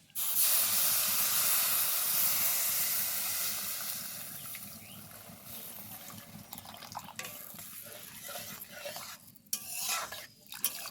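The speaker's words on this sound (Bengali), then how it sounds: "এবার ওই বাটির মাপ করে আমি জল দিয়ে দিচ্ছি" Water poured into a pan of lightly fried semolina for modak makes a loud hiss and sizzle at first, then settles into a steady bubbling with scraping stirs toward the end.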